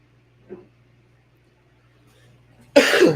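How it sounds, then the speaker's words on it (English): A brief faint cough early on, then after a quiet pause a louder burst of coughing close to the microphone. "Oh, I started coughing."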